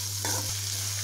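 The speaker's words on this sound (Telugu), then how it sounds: "ఆనియన్స్ వేగాయి కదండి" Onions frying in a pan for a dhaba-style egg masala curry, a steady close sizzle with a brief stir of a spoon and a low hum underneath.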